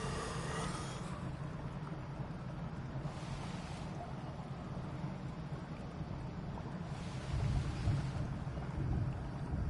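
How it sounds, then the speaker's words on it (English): Steady rain falls in the Amazon survival game Green Hell, a constant broadband hiss of downpour with no break, swelling slightly louder near the end. "Got a good bit of rain happening."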